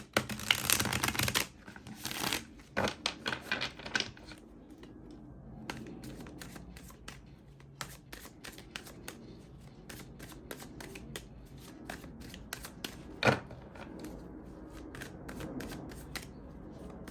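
A tarot deck is shuffled in quick, crisp riffling bursts, then single cards are slid and flicked out at intervals, close and fairly loud, with no voices.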